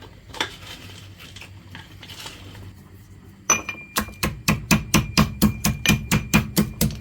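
Roasted whole spices being pounded before grinding: a few soft knocks, then a steady run of about a dozen sharp, evenly spaced metallic pestle strikes, close and loud with no voice over them.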